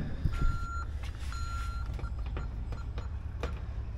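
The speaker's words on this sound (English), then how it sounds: "Shut the alarm off." A truck's reversing alarm beeps steadily at a shop, repeated evenly spaced electronic tones over a low idling engine rumble, fairly close.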